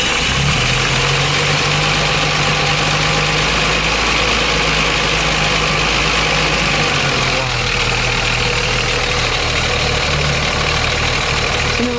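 A 1936 Bentley Derby 4¼ Litre idles steadily and loudly up close, with a low, even engine hum held for the whole stretch.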